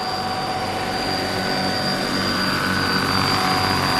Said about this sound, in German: Und das sind schon gewaltige Hubschrauber